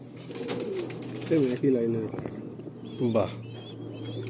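Madrasi pigeons kept at a home in Kolkata coo in a few short, rolling bursts, close by, with someone talking over and between the calls.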